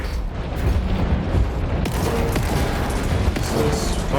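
Missile fire in War Robots: Frontiers makes a steady, loud rumbling barrage of blasts and whooshing launches, dense and continuous with a few sharper hits standing out.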